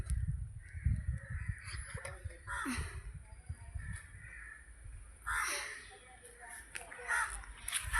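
Crows cawing outdoors, several harsh calls spread across the clip, moderately near, over a low rumbling background with some voice sounds.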